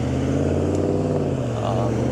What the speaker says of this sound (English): Let this car go first.